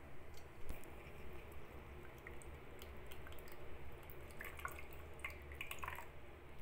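Lemon juice drips and trickles into a strained homemade juice drink, a soft, steady wet patter with small squishy splashes close by, continuing without pause and with no one talking.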